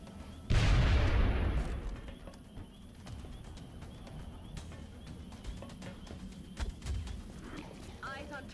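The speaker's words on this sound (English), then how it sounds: "Grenade out." A grenade goes off in the XCOM: Enemy Unknown strategy game, a loud booming blast with a long rumbling tail that fades over a couple of seconds, followed by quieter game ambience and a few faint clicks.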